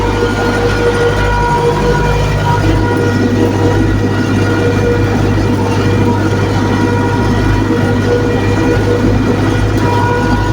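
A loud, steady engine drone with a deep hum and mechanical rattle, continuous and close, from a YuMZ tractor pulling an SMD cultivator across a field before sowing.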